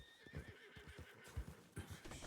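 A horse in the video game Red Dead Redemption whinnies and snorts up close, with soft hoof clops and shuffling in between; quiet overall.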